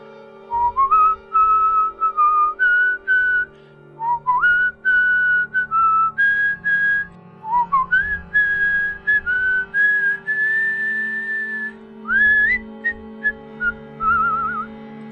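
A man whistles the folk tune Jimmy Crack Corn, clear bright phrases of short and held notes broken by brief pauses, close and alone over a quiet background.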